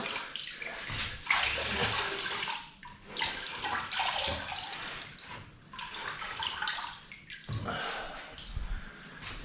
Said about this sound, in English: I'm going to be washing it off with a sponge